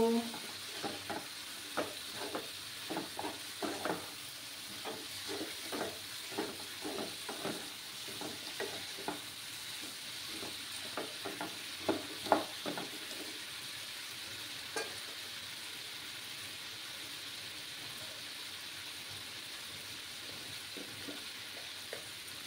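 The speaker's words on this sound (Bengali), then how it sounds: "দিয়ে ভালোভাবে কষিয়ে নেব" Spice masala with papaya and soybean frying in a pan, a quiet even sizzle with a run of regular scraping stir strokes early on that thin out to occasional knocks, no voices.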